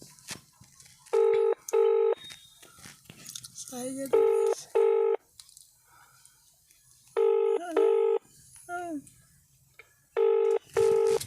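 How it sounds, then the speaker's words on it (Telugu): A phone ringback tone repeats in regular double pulses, with quieter voices and mouth noises in the gaps between rings. "రింగ్ అవుతుంది, ఇంకా అట్లేదు."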